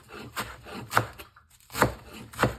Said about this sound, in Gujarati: હવે આપણે અહીંયા મેથી અને ધાણાને ઝીણા ઝીણા કાપીને સારી રીતે ધોઈ લેવાના છે.